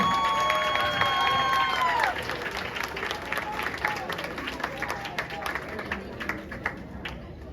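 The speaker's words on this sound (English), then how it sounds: "One more applause for your kids on the beginner band tour." Applause from an audience at a beginner band concert comes in over a held tone that fades out, then many hands keep clapping steadily at moderate volume, fairly close.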